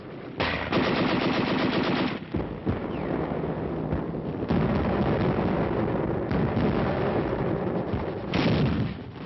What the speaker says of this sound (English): Despite heavy enemy fire, the first wave swarmed ashore with timetable precision.